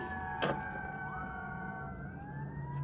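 Sirens sound outside a building: faint, steady wailing tones that slowly rise and fall, with a brief thump near the start and no talking.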